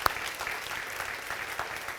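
Brief burst of congregation applause for the technical team in a church service, a soft, even patter of many hands heard at some distance.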